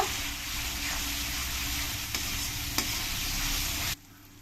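Onions with ground cumin, coriander and chili powder stir-fried in a pan for a duck meat curry, making a steady close sizzle with a few spoon scrapes, then cutting off abruptly near the end.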